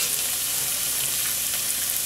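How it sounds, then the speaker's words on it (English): Cooked pasta added to a hot pan for carbonara and stirred, with a continuous close sizzle and frying crackle and faint stirring movement, no talking. "Now I'm gonna add the pasta in."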